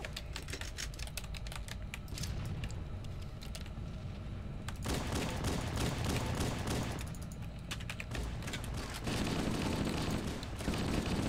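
Rapid gunfire in a Halo: Combat Evolved match, crackling bursts of shots with clattery mechanical texture, a quieter pause, then heavier sustained firing, moderately loud with no voices.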